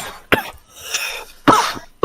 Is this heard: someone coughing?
yes